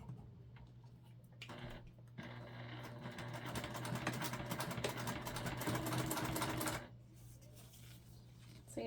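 Sewing machine running a top stitch along a travel pouch, a quick rapid ticking stitch run lasting several seconds at close range, starting and stopping cleanly against quiet surroundings.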